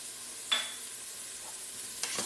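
Paprika stirred into a hot pan for chicken paprikash: a soft background sizzle with two short scraping strokes of a spoon, close but fairly quiet, no voices.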